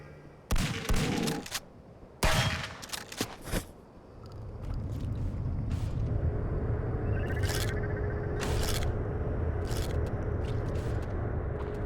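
Several loud gun blasts from a weapon in the shooter game Zortch punch out early, then give way to a steady low rumble with scattered sharp clicks and hits.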